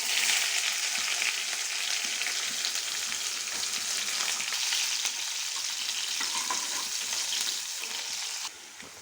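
Onions fry in a pan with garlic for a ridge gourd curry made without water, a dense steady sizzle with light stirring, close and continuous, fading a little at the very end.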